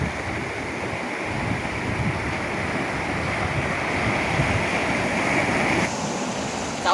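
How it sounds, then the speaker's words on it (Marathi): Sea waves surging against the shore at a strong high tide where people fish with hooks, a steady loud roar and wash of surf with wind buffeting the microphone, no voices. "लाटा बघा कसल्या उसळत आहेत"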